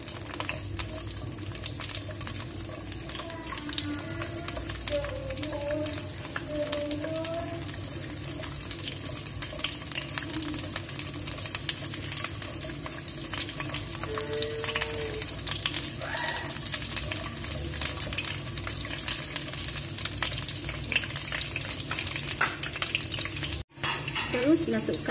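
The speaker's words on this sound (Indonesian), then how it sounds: "Saya goreng pete, saya pakai satu genggam saja petenya ya." Petai stink beans, a single handful, frying and being stirred in a pan, with a steady broadband sizzle throughout and occasional scraping of a utensil; a brief break near the end, with faint voices in the background.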